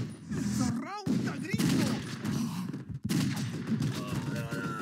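Enemy gunfire in the video game Total Overdose: bursts of rapid shots crackle through a busy, noisy mix, with a brief pause near the middle before the firing resumes.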